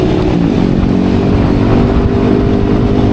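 Yamaha Lexi scooter fitted with an Aerox engine, revving steadily and loudly close by for about three seconds, a continuous buzzing drone with no voices over it.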